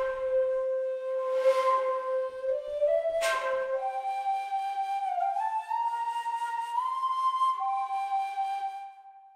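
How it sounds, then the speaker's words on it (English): A sampled bansuri bamboo flute from an ethnic-world instrument collection plays a solo melodic line, its first note given an ornamented, breathy articulation before smooth legato notes follow, clear and close with no other sounds. "Here's the bansuri."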